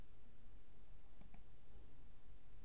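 Two quick mouse clicks close together while someone sets sharing permissions on a document in a computer program, sharp and faint over a steady low background hum.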